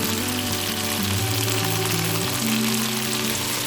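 Shrimp sizzle in a hot pan with soy sauce, vinegar, cane sugar, yuzu juice and sesame oil, a steady close-up frying hiss with a low tonal hum running beneath it and no voices.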